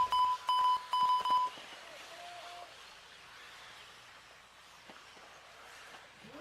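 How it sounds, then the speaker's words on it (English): Three short electronic start beeps sound in quick succession at a 1/8 scale RC electric buggy race on a dirt track, followed by quieter track ambience. "we're going to get this one going here at the sound of the tone"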